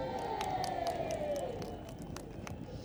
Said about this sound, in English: The crowd go crazy.